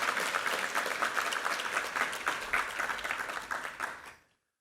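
Congregation at a Sunday church service claps in blessing, a brisk, dense round of applause that holds steady for about four seconds, then stops abruptly into silence.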